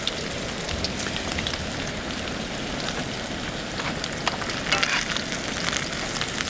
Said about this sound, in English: I have a perfect boil going on here